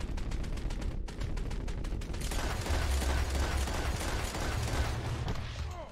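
Rapid dual-pistol gunfire in Red Dead Redemption 2, a fast burst of loud sharp shots followed by a dense rattling volley and mechanical clicks.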